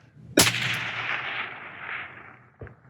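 A single suppressed long-range rifle shot in the open desert: one sharp crack followed by a long rolling echo that fades over about two seconds, then a faint distant thump as the round lands.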